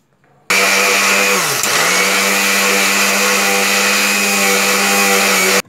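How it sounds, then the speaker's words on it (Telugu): A kitchen mixer grinder runs continuously, powdering sugar for a homemade plum cake. Its loud, steady motor whine starts abruptly, dips briefly in pitch as the load shifts, then holds even until it cuts off, with no talking. "షుగర్ని మెత్తగా మిక్సీ పట్టాలి"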